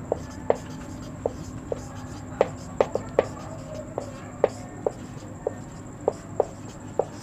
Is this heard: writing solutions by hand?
yes